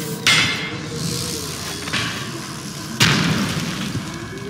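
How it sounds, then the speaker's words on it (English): Two sharp booming grenade blasts in the video game Dishonored, set among rat swarms, each a loud crack with a ringing tail, the second about three seconds after the first over a steady background hum. "Second grenade, always useful."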